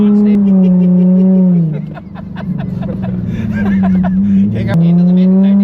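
Nissan 350Z engine drifting, a loud steady drone that drops as revs fall, then climbs again, with a voice talking over the engine noise inside the car.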